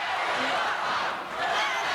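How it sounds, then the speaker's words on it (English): A wrestling arena crowd at an all-star pro wrestling show reacts with a loud, sustained roar of many voices that dips briefly midway before swelling again. "Listen to this crowd."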